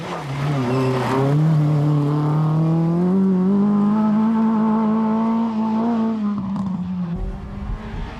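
A Nissan Sunny Formula 2 rally car, driven by Tommi Mäkinen at the 1994 Ulster Rally, roars close by, its engine note climbing and holding through one long gear before abruptly dropping off near the end.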